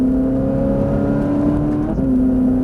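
A Ferrari 458 Italia engine accelerates hard and steadily on a track, its pitch rising into a loud continuous roar, with a brief dip near the end.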